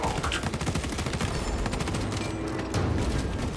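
Bolt pistol gunfire in the video game Space Marine, a dense run of rapid, loud shots in quick succession, continuous through the clip with a brief stronger burst near the end.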